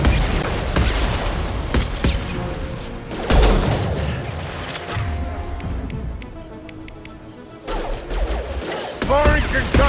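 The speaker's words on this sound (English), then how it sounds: "Firing concussive shot." Gunfire and blasts in Mass Effect 2 combat, with concussive shots among rapid shooting, heavy impacts and crashes rolling continuously, with voices talking over parts of the fight.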